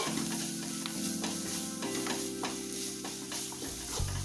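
Cut green chillies being stirred as they fry in a pan for a beef boti fry, a steady close sizzle with scraping strokes of the spoon running throughout.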